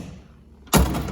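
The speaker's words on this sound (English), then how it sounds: "Doors just click shut like they should." The door of a 1975 Triumph TR6 convertible clicks shut in a single sharp, close thud after a quiet moment.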